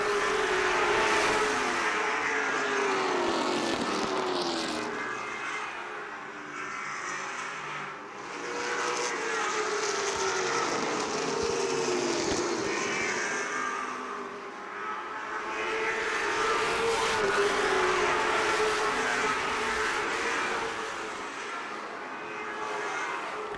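Late model stock cars race at Dominion Raceway during a CARS Tour event, their engines roaring loudly and swelling and fading in repeated waves as the pack laps the short oval.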